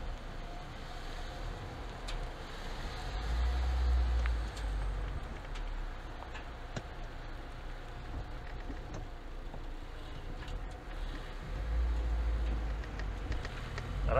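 A Lada Niva 4x4 with a rear limited-slip differential drives off-road, its engine a steady low drone at moderate distance that swells twice as a wheel spins and grips, with faint clicks and rattles over it.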